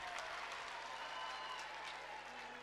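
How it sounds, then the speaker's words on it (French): Steady audience applause at a school event in Mali honoring contestants, a continuous wash of clapping hands at moderate distance with no talk. "On les applaudit très très fort."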